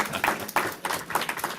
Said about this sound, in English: Well, you can give a round of applause.